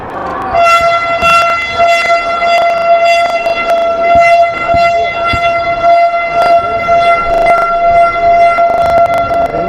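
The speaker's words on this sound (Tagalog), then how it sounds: "May wagang busina." A loud, sustained horn blares with a steady tone at a basketball game between Italy and Luxembourg, with sharp knocks and thuds from the court punctuating it.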